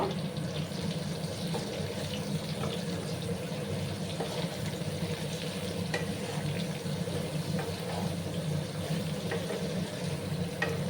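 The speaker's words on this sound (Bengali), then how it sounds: "সমস্ত কুমড়োগুলোকে কিন্তু একটু লাল লাল করে আমি ভেজে নেবো" Ash gourd pieces fry in a pan with salt and are stirred, giving a steady, moderately loud sizzle with watery hiss that runs unbroken throughout.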